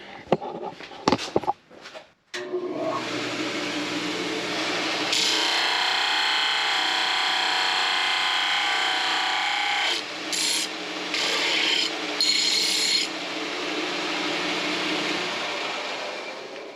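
An abrasive belt sander grinds steel on a cracked rat rod frame, producing a loud, continuous rasping whine that runs steadily for most of the stretch after a few clanks and short starts.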